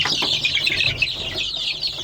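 Rhode Island Red chicks peeping continuously in a high-pitched chorus, close and steady, with soft scratchy rustling underneath and no voices.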